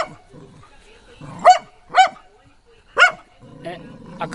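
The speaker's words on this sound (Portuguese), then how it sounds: "A cachorrinha tá furiosa" A small female dog barks in sharp, furious bursts, three loud yaps close by with whimpery yips between, facing a snake that has swallowed a porcupine; a person talks over the barking.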